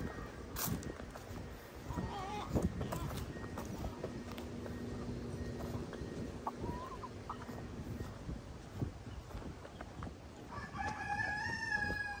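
Chickens and a rooster in a backyard coop, faint and somewhat distant, with a crow and scattered clucks over a steady outdoor background and occasional knocks.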